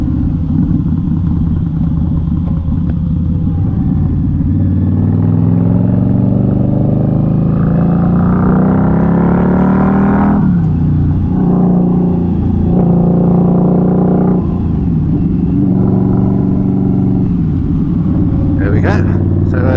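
An Indian Scout Bobber motorcycle rides along the road, its loud engine rumble and wind noise continuous, while a rider talks over it throughout.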